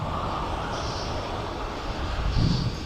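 A Ryanair airliner inbound to East Midlands Airport produces a steady, distant jet rumble that swells slightly toward the end, with no talk over it.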